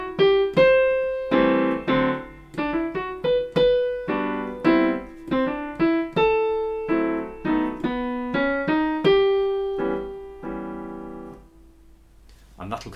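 Piano playing a melody over short, punchy stop chords, a steady run of crisp struck notes and clipped chords with brief decays, close and clear, ending in a held note and silence.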